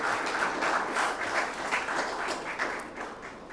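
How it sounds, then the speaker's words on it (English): An audience at a defence industry summit in India applauds the Ministry of Defence and the Defence Minister with steady, even clapping that stays fairly quiet and distant, with no voices over it. "A big round of applause for Ministry of Defence and Defence Minister."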